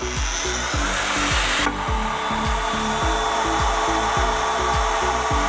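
A Grosser GAG 20 120N cordless angle grinder runs with a loud, continuous high whine while its balance is tested, its motor pulsing in a quick repeating rhythm while the pitch shifts slightly.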